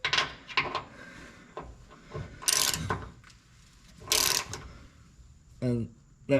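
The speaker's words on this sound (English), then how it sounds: "we're going to go back to the transmission skid and torque down those fasteners." A ratchet torquing down fasteners on the transmission skid plate of a 2015 Toyota Land Cruiser 200, short bursts of clicking and scraping metal close by, with a voice heard faintly at times.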